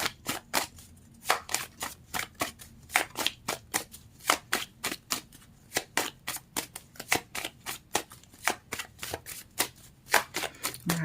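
Tarot cards shuffled and handled for a reading, giving a fast, steady run of crisp papery flicks and snaps close to the listener, nearly continuous across the stretch with no voices.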